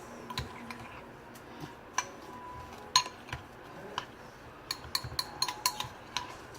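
A spoon mixing ingredients together in a bowl for a recipe, giving faint, scattered clinks and taps against the bowl in an irregular rhythm, fairly quiet and without talk.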